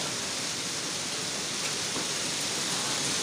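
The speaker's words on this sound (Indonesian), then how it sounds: "Hujan gede." Heavy rain pours steadily on a park area in Rawamangun, a dense, even hiss of water filling the whole space with no breaks and no voices.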